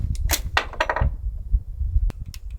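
AR-10 rifle firing on a range, a few sharp reports spread unevenly across a couple of seconds, each a short loud crack over low rumbling background noise.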